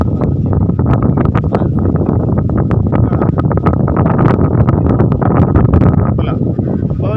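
Loud, gusty wind buffeting close against the microphone on a small rowing boat, a continuous roar with crackling bursts and no voices.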